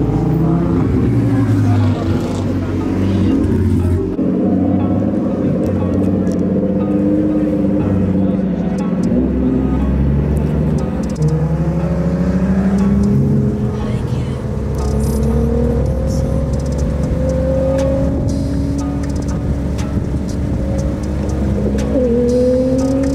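Turbocharged Lamborghini engine revving at a Mexico street race, a loud continuous drone whose pitch climbs and falls through repeated revs, mixed with other cars nearby and crowd voices talking throughout.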